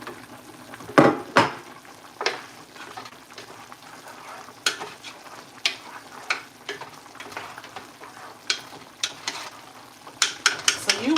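Soft vegetables sizzle steadily in a pan while a utensil stirs them, sharp scrapes and clanks of the pan recurring every second or so over the continuous frying hiss, with no talking.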